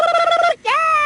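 A two-note cuckoo call from the video game Chaos on Deponia, loud and close, a clear tonal first note, a brief gap, then a higher second note.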